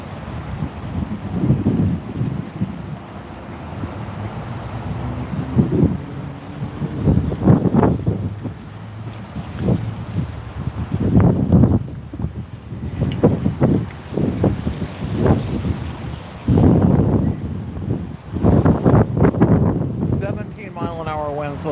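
Strong wind gusts of about 32 mph buffet the microphone outdoors at a protest in Portland, in loud, uneven bursts rising and falling over a constant rushing background, with voices talking intermittently.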